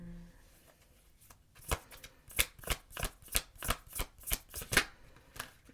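Tarot cards being riffle-shuffled up close, a quiet lead-in followed by about ten crisp, evenly spaced bursts of card flutter with nobody speaking.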